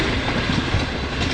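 An Awam Express passenger train with a new rake runs between Peshawar and Rawalpindi at about 100 km/h, heard as a loud, continuous close rumble of wheels on rails with clickety-clack beats.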